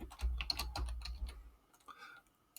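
Quick clattering keystrokes on a computer keyboard as names are typed in, a short burst of close, crisp taps that slows and thins out toward the end, with no talking.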